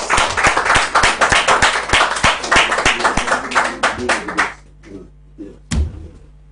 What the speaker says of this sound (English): A round of applause for the two comrades.